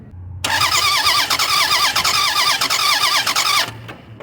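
A Lexus ES300 starter motor whirs loudly and steadily for about three seconds, the engine turning over rhythmically without catching with the fuel system disabled, then the cranking stops abruptly.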